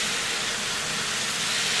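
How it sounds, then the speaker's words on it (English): Starchy pasta water hits a hot pan of browned mortadella meatballs, giving a loud, steady sizzling hiss of steam that holds evenly throughout, with no talk over it. "I'm going to grab a little bit of my starchy pasta water here and add it to my pan."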